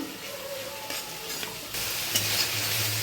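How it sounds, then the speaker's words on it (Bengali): Masala with slit green chillies and a splash of water being stir-fried in a pan for an egg curry, a short spell of soft sizzling and spatula scraping that turns louder partway through, with no talking. "এবার একটু সামান্য জল, মশলাটাকে আরও ভালোভাবে কষিয়ে নেব।"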